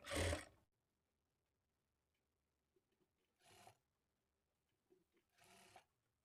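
A sewing machine stitching a lining blouse runs in three short bursts with quiet pauses between, the first burst loudest and close.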